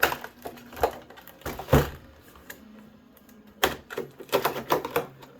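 Blade slicing packing tape on a tightly packed collector's edition box, rapid ticking and ripping strokes in irregular bursts with a few louder scrapes and thumps of cardboard, close and dry, no talking.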